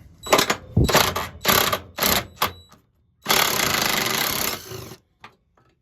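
A 1/4-inch drive ratchet with a 5/16 socket works U-bolts off a Cummins NP241 transfer case, giving a series of short rapid clicking bursts followed by one longer sustained run, close and loud without speech.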